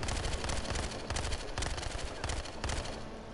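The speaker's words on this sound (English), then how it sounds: "I'm shooting at nothing right now." Rapid automatic gunfire in Battlefield Hardline, bursts of repeated shots crackling in quick clusters, fairly quiet and distant-sounding with no voices over it.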